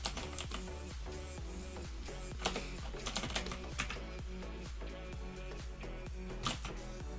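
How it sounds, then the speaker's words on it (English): Rapid typing on a computer keyboard, steady clusters of close key clicks with occasional louder strokes, heard alone without talk. "Don't fuck up and hit the wrong keystroke."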